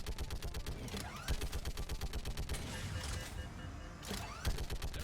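Rapid turret gunfire in Mass Effect 3, a fast burst of sharp repeated shots, a brief pause, then a second short volley, all fairly quiet in the mix.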